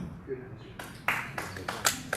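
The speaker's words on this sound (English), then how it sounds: "No applause, please" A few audience members at a U.S. congressional District 15 candidate forum clap in scattered, separate sharp claps after a quiet start, with no sustained ovation.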